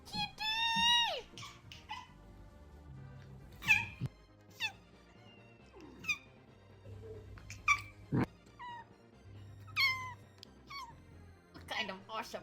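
A cat meows several times, drawn-out cries spaced across the stretch, mixed with game audio and background sounds while a person talks over it.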